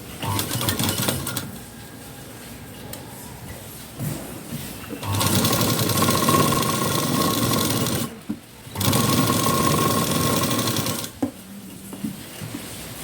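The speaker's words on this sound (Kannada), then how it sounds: "ಈಗ ಇಲ್ಲಿ ಫ್ಯಾಷನ್ ಪಟ್ಟಿ ಮೇಲೆ ಕೆಳಗಡೆ ಸ್ಟಿಚ್ ಹಾಕಿ" A sewing machine stitches a decorative fashion strip onto the front of a blouse, running in steady mechanical bursts with short pauses between runs, close and fairly loud, with no talk over it.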